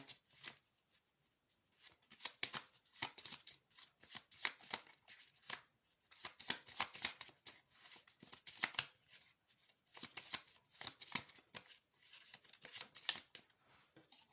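Tarot cards shuffled by hand, with repeated crisp riffling bursts in an irregular rhythm across the whole stretch, close but fairly quiet, with no speech.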